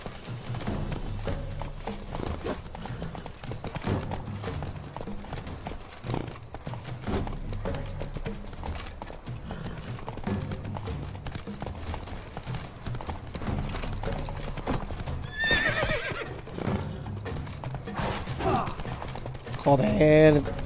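Horse riding in The Witcher 3 video game: steady clip-clop of hooves throughout, with rattling tack, a whinny near the end and someone talking over it.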